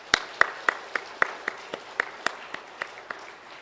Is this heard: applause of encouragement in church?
yes